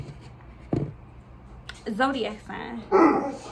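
A pet dog gives a single short bark indoors, followed by people talking.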